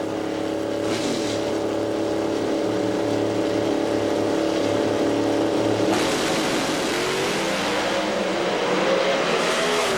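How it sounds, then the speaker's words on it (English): Pro Stock drag cars at the 1999 NHRA Pontiac Nationals in Columbus idle loudly and then roar off the line, a dense, close engine blast that swells into a broad, sustained howl as they launch down the track. "Trumbull was away first, had what he wanted, but then the car let him down as Warren Johnson"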